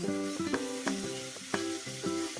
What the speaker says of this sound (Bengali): পনিরের সাথে পুরো মশলাটাই দিয়ে দিলাম, রসুন বাটা আর লঙ্কা আর টমেটো বাটা দিয়ে আমি একটু নাড়াচাড়া করলাম